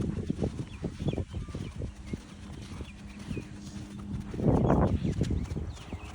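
Horse hooves canter around an arena during a home schooling session, a steady rolling clip-clop of close, distinct beats, with a louder burst of thudding near the end and no talk.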